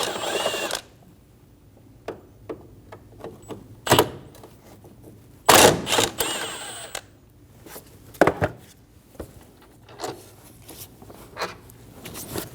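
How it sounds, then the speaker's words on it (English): A 10mm socket on a ratchet backs out the battery tray bolts on a 2012-2022 Volkswagen Passat, giving sharp, scattered clicks and short metallic bursts, close and fairly loud, with quiet gaps between them. "Using a 10mm socket, remove the two bolts for the battery tray."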